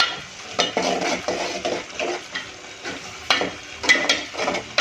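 Curry in a pot being stirred as gram flour is mixed in, a run of close, rhythmic scraping and clinking spoon strokes over a soft sizzle, with no voices.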